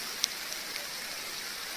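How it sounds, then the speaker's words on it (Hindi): Steady rain falls outdoors as a soft, even hiss, with a few faint drop ticks and no voices. "काफ़ी देर पहले बारिश शुरू हो गई थी और अभी तक बारिश लगी हुई है"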